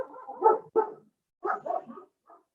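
Dogs bark in a few sharp bursts, two quick barks, a pause, then a short run of yips and a final faint one, nearby indoors with no talking.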